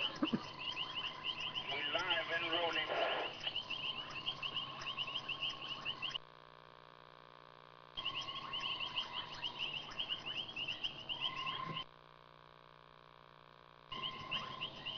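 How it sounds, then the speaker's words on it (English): A dense evening chorus of many frog species at a pan in Africa, overlapping croaks, trills and chirps layered continuously, with a few abrupt silent gaps. "behind me is a wonderful chorus of many different types of frogs"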